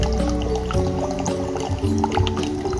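Water pours and trickles steadily from a large, clear natural spring in an old Central Java village, a continuous close liquid gurgle with small drips, no voices.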